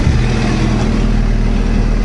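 A Honda Accord AWD car engine runs steadily with a low, rumbling drone, loud and close, holding an even idle throughout with no voices.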